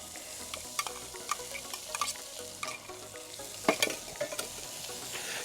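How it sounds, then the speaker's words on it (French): Shallots sizzle and crackle in hot olive oil in a saucepan, with scattered pops and the scrape of stirring over a steady frying hiss, close up and without talk. "Nous allons poser dans une casserole un peu chaude, préalablement, de l'huile d'olive, un petit peu d'échalote"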